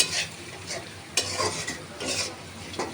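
Yardlong beans and potato pieces fry in a pan with chili powder, salt and turmeric while being stirred, making a steady sizzle broken by repeated scraping strokes of the spoon, with no talking.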